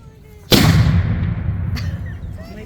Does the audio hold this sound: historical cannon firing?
yes